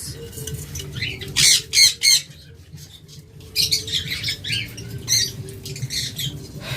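Opaline lovebirds at a bird sale screech in loud, harsh bursts, several squawks close together, then a pause and a further run of sharp calls amid rustling and cage noise.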